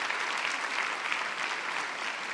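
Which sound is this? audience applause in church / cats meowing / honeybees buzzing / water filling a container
audience applause in church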